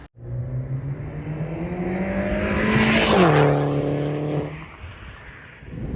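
A turbocharged Mini R56 with CTS Turbo parts approaches, engine revving with a rising then falling pitch as it speeds past close by, then fades into the distance.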